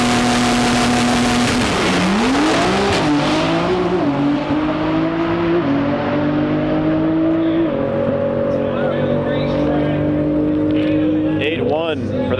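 A Nissan GT-R launches in a drag race at TX2K21, its engine note holding steady and then climbing through gear changes for several seconds. Strong, near engine tones run throughout with voices faintly mixed in.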